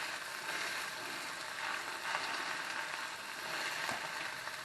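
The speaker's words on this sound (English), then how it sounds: "You just want to sear it so the juices and stuff stay inside good" Pork chops searing in a hot pan, a steady close crackling sizzle with faint scattered pops and no talk.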